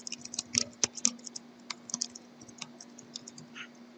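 Task name typed on a computer keyboard in a project-scheduling program, a quick irregular burst of close, crisp key clicks with a few louder strikes and a steady low hum beneath.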